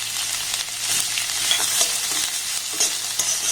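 Chopped onion and green chillies sizzle steadily in hot oil in a pan while being stirred, a dense close frying hiss with soft scraping, no voices.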